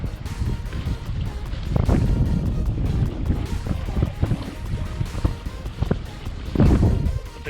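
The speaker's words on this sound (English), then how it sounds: "Wind's starting to pick up." Gusty wind at a lake dock buffets the microphone in uneven rumbling surges, with water lapping faintly beneath and a few louder gusts near the end.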